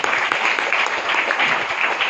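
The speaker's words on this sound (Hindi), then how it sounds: "ऐसे हमारे दिग्विजय पाठक सर के लिए जबरदस्त ताली होना चाहिए" Steady, dense applause from a seminar audience fills the hall, continuous clapping without pause, loud and close.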